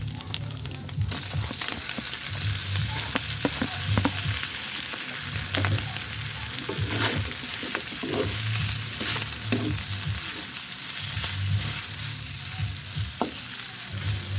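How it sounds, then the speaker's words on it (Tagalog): Ground meat with onion sautés in a pan, making a loud continuous sizzle with stirring scrapes and a low rumbling pulse underneath throughout. "Tuloy-tuloy lang sa paggisa, halu-haluin lang hanggang sa maluto na ang karne."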